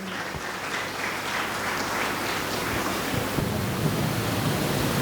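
At a parenting seminar in a school auditorium, the crowd gives loud, steady applause as a guest is welcomed onto the stage, a rushing, continuous wash of clapping that swells slightly near the end.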